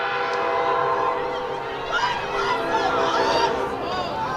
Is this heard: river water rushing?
no